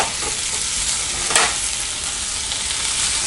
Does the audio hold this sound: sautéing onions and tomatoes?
yes